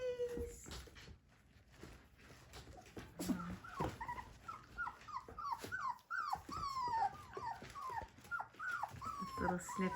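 Four-week-old puppies whimper and yelp in a rapid series of short, high cries mixed with small growls, close and fairly quiet, scattered irregularly across the stretch.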